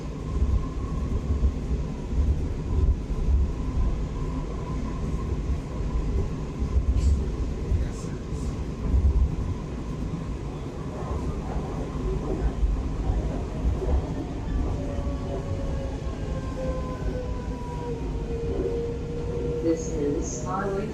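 A WMATA Metrorail Kawasaki 7000 Series subway train rumbles steadily along the tracks with a low roar and rising whine, while announcements play over the running noise.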